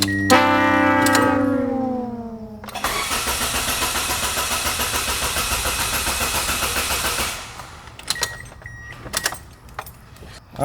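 A Toyota Matrix XRS running a newly installed Link Monsoon ECU gives a falling electrical whine, then loud rhythmic cranking for about five seconds that stops without catching, followed by scattered clicks.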